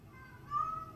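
A cat gives a short, faint meow, a thin rising tone that lasts under a second over low background noise.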